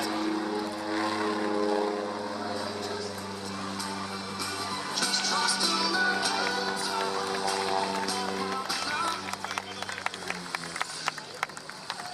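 A large Marcel Bloch propeller airplane drones steadily at an air meeting in Valence, its engine hum holding with harmonic bands before rising and growing rougher, with a person speaking over it.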